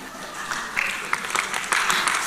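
Audience clapping at a Central Java provincial quiz competition on Indonesia's four state pillars, a steady wash of applause with sharper bursts of claps swelling near the middle and end.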